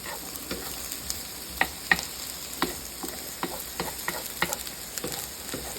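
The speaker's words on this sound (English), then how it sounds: "It's good for breaking up the onions." Onions frying softly in a pan, with a steady low sizzle broken by light, irregular scrapes and taps as a utensil breaks them up, close and gentle, without speech.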